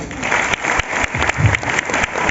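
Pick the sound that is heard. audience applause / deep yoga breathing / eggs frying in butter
audience applause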